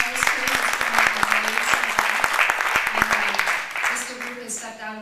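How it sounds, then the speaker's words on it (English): Audience applause for a finalist at a social media marketing presentation, dense steady clapping from a crowd lasting about five seconds with sharp individual claps standing out and a voice briefly audible beneath. "Let's give a round of applause to Sam,"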